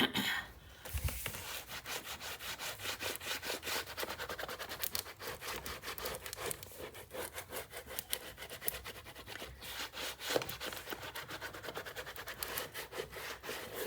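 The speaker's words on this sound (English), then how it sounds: "we're going to get in here and burnish it really well" Paper gusset on a 9 x 9 Nutcracker mini album being burnished with firm strokes, a close, quiet series of rubbing and scraping swipes in irregular rhythm.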